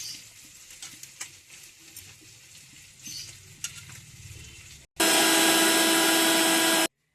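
Fried puti fish and potatoes are stirred in a pan with onion, garlic, chili and tomato. Soft scraping and sizzling sounds come first, then a loud, continuous roar of hot frying cuts off abruptly after about two seconds.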